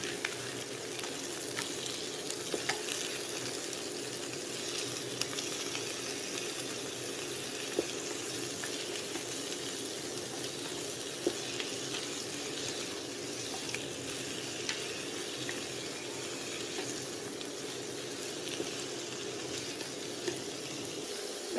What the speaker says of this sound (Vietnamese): mình cho măng vào mình xào